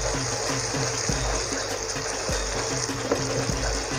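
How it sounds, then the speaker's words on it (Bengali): Water is poured into a cooking pan holding a seasoned mustard-paste mixture with salt and turmeric, a steady close gushing splash that runs unbroken for several seconds. "অ্যাড করে দিচ্ছি একটু জল"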